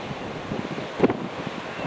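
Gusty wind buffets a windy coastline with surf rolling underneath, a steady broadband rush across the whole stretch and one brief louder gust thump near the middle, no voices.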